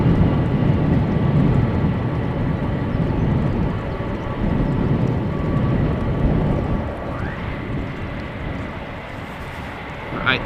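A Singapore Airlines Cargo aircraft lands on runway 18R at Amsterdam Schiphol in a crosswind. A steady, loud engine roar with wind rumble fades slightly toward the end.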